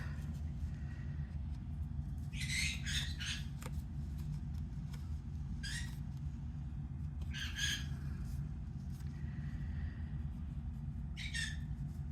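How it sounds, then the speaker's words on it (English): Dried glue being ripped off a Diamond Press holiday pop-up card, heard as a few short, crisp tearing bursts spaced several seconds apart over a steady low rumble. "Gotta rip that glue off."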